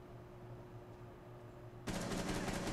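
Rapid burst of gunfire from the video game Rainbow Six Siege, starting abruptly partway through as a dense, loud crackling volley over a steady game background hum.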